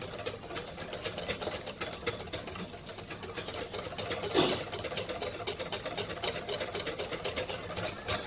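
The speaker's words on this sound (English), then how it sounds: "So you're just going to whisk." An egg mixture for banana pudding being whisked in a pot makes a rapid, even clicking and scraping rhythm, close and steady throughout, with one slightly louder clatter midway.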